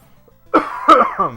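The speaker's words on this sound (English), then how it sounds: "If I do start breaking out into a coughing fit, please excuse me" A person coughs in a short, harsh burst of two or three throat-rasping coughs, loud and close, with no other sound around them.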